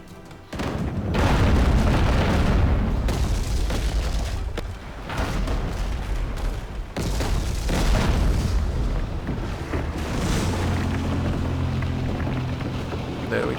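Mortar shots and explosions in the naval video game Abandon Ship, a dense, loud stretch of booming blasts and rumbling impacts with splashy, rain-like noise, continuing with few breaks throughout.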